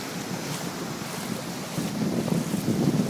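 Ocean waves wash up onto a beach in a steady, rushing surf under gusty wind noise, growing fuller and louder over the last second or so.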